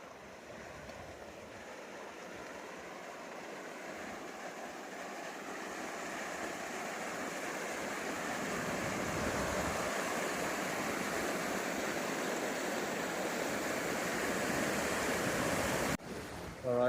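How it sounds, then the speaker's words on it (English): A mountain creek cascades down rocks in the Wind River range, a loud, steady rushing roar that builds slightly and fills the scene throughout, with a brief clatter near the end. "I don't know if you can hear me over the creek here behind me."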